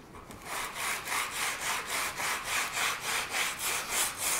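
Sandpaper scrubbing a plastic repair spot: rhythmic back-and-forth rasping strokes, about a dozen at a steady pace, close and moderately loud with no speech.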